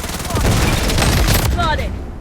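Rapid automatic gunfire in the mobile shooter game Blood Strike, with loud, dense bursts of shots filling the whole moment and a brief game voice line layered over the firing.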